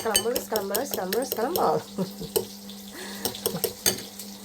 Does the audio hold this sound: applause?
no